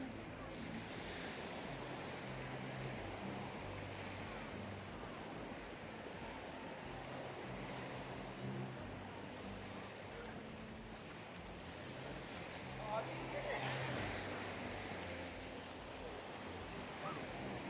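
Calm sea waves wash steadily on a shore beside a luxury hotel in Fethiye, a soft continuous surf with light wind noise, unbroken and even throughout, with no voices.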